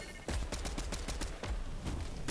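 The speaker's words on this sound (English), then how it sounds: "More shots on the side." Fortnite gunfire rings out in a rapid series of sharp shots, a dense burst that pauses and then resumes, fairly loud, with no talk.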